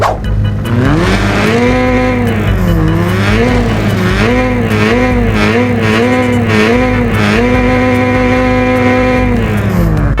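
A stock Honda FD engine is revved during a sound check: a loud, close engine note rising and falling in several throttle blips, droning steadily throughout with no talking.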